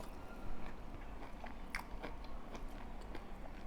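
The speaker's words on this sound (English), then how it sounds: "Am I supposed to work hard while chewing it?" Close, wet chewing and biting on tough meat from a Nigerian Yoruba meal, soft irregular mouth sounds with a few crunchy bites, no talking.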